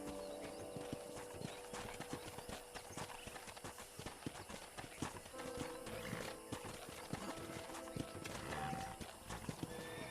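A horse in Red Dead Redemption trots with rapid, crisp clip-clop hoofbeats and gives a brief whinny, the steady footfalls running throughout alongside light mechanical rattling of tack.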